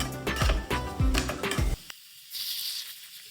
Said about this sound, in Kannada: ಗ್ರೀನ್ ಚಿಲ್ಲಿ ಇಷ್ಟನ್ನು ಫ್ರೈ ಮಾಡಬೇಕು